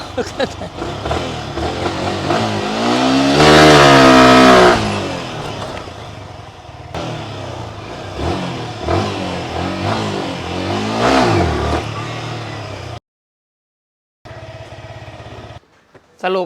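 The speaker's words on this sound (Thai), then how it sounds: "เดี๋ยวขี่โชว์ขี่โชว์ยกล้อโชว์" A Yamaha R15 motorcycle revs hard in front of a shop during a wheelie attempt, the engine climbing to a loud, close peak and then blipping on and off, with brief cutouts near the end.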